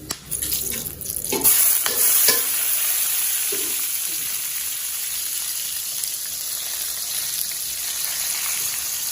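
Onions are tipped into hot oil with spices for mutton curry, bursting into a loud close sizzle with a few clatters at first, then settling into a steady frying hiss.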